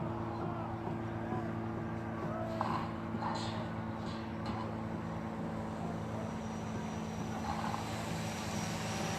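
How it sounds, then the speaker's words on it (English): A drone flies overhead at night during a protest confrontation with riot police and the National Guard, giving a steady droning buzz with a few faint higher bursts, continuous and moderately loud. "The noise you hear above is a drone."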